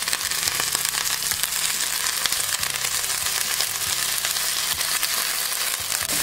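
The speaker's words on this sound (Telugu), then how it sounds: "కొద్దిగా వేగాక మనం కడిగి పెట్టుకున్న ఈ పుదీనాను కూడా వేసేసుకోండి" Washed mint leaves frying in a pan for mint dal: a steady, loud crackling sizzle that runs throughout with no talk.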